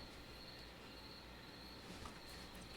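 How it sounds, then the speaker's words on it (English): Crickets chirp in the Metal Gear Solid 3 jungle as a steady, faint, continuous high trill under a dense wash of ambient noise. "Yeah, those are definitely crickets, not birds"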